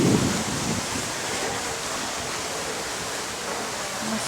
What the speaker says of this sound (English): nice waterfall, or fountain I should say.